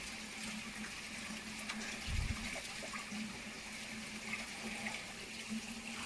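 Koi pond filling with water through 2-inch pipework and a ball valve, a soft, continuous rush and trickle of flowing water with a brief low gurgle partway through.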